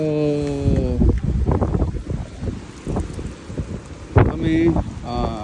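Gusty wind rumbles and buffets loudly against the microphone while people talk over it, with a brief exclamation near the end.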